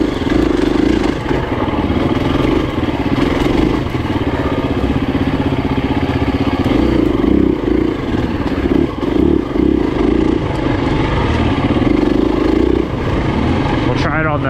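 A KTM 350 enduro motorcycle rides a trail, its engine a loud steady drone with rattling and clatter from the bike and terrain throughout, close to the rider, with talking over it.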